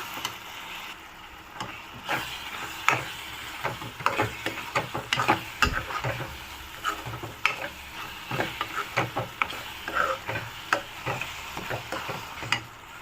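A spoon stirs coconut laddu mixture in a pan with irregular scraping strokes and a faint sizzle beneath, steady and close throughout.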